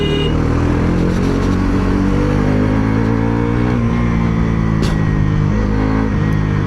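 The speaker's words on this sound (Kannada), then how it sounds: "ಆ ಪಲ್ಸರ್ದು NSದು ಗ್ರೌಲ್ ಇದೆಯಲ್ಲ ಸೂಪರ್ ಅದು." A Bajaj Pulsar NS400Z engine growls loud and close as it revs, a dense continuous rumble with a brief sharp burst near the end and no talking.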